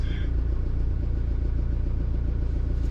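A truck engine idling nearby at a roadside in Peru, a steady low rumble with a regular pulsing throb that runs throughout at an even level.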